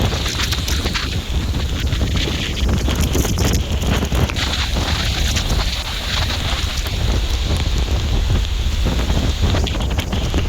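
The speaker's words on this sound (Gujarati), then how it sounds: "અને તોડી નાખે એવો વરસાદ આમ જોવો." Dense, loud, steady hiss of heavy rain pouring down continuously in the Sakri ghat, Maharashtra, with a low rumbling undertone and no talking.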